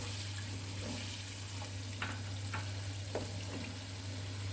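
Banana halwa being roasted and stirred in a kadhai, a quiet continuous frying hiss with a few faint scrapes of the spoon and a low steady hum underneath, no voices.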